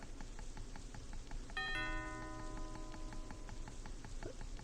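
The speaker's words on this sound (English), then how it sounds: "I rang the doorbell." A doorbell sound effect in a visual novel game chimes once with a bright multi-tone ring that lingers and fades over steady background noise, with no talking.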